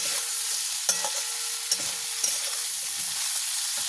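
Spiced potato curry is stirred and mixed in a hot pan, giving a constant loud sizzle with regular spoon scrapes and clinks about every second.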